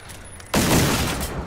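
Gunfire in the video game Generation Zero: a sudden loud burst begins midway and holds as a dense, sustained barrage to the end.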